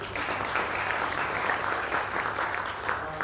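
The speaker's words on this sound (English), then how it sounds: "Please, once again, a very big round of applause." Sustained audience applause after a keynote address at a conference in Melbourne, an even wash of many hands clapping at moderate volume with no speech over it.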